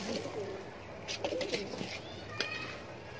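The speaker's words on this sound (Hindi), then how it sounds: "ये टोटल 111 कबूतर है।" Soft pigeon cooing in a busy outdoor space, a few low throaty coos mixed with fluttering and background noise.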